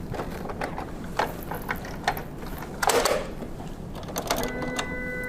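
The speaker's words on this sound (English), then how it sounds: "Finally, we'll reload the cardstock and close and lock the printer." An Entrust Datacard CR805-series card printer is closed and latched, giving a few soft mechanical clicks and a louder clatter midway, then a faint steady whir as the mechanism settles, close by with no voices.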